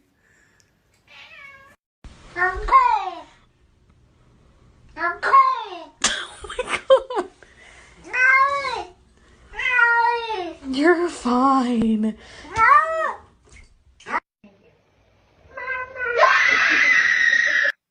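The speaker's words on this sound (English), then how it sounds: "Cat talking moment." A cat meows repeatedly in drawn-out, rising and falling calls spread across the span, loud and close, with a person briefly speaking and laughing between the cries.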